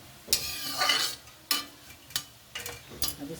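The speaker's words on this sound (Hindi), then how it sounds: "धीमी धीमी आंच में इनको भून लेंगे।" Khurma sweets fry slowly over a low flame with a soft continuous sizzle. Several sharp stirring or scraping strokes sound close by in an uneven rhythm.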